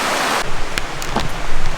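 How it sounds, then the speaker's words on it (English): Water runs down small rocky steps on a crag path, a loud rushing wash close by with brief splashy bursts, no voices. "the water's coming down"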